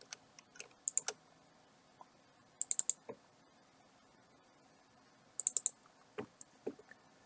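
Soft mouse clicks at a computer desk come in quick pairs and small clusters, separated by quiet pauses; the clicks are close and crisp, with no talking.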